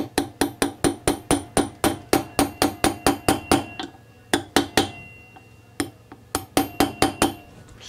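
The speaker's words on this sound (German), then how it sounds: "Und dann kann man ja noch mit der 30er Nuss so ein kleines bisschen nachhelfen." Steady metallic hammer blows drive a front wheel bearing into place through a 30 mm socket, a fast regular series of loud ringing strikes with a brief pause midway, close and without talk.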